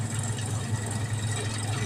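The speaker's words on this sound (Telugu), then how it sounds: "ట్రాక్టర్ మీద కూర్చొని ఇలా వీడియో తీసుకుంటున్నాను." A tractor engine idles during a groundnut harvest in the field, making a steady, loud, low rumbling drone with no break.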